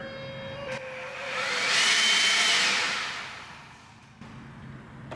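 Ryobi 18V ONE+ 280 CFM cordless blower, its airy rushing whine swelling from low to a loud peak and then easing back down, heard close with no talking.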